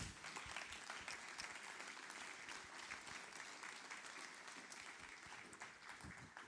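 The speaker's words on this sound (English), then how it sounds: "applause for us." A conference audience at an opening plenary session on the green and digital transition applauds in a steady, dense wash of clapping. The sound is quiet and distant and lasts throughout, with only faint voices.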